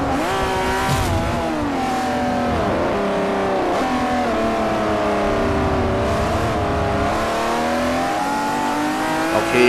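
Saleen S5S racing in Forza 4 as a loud, continuous engine note that climbs and drops through gear changes with steady revving throughout.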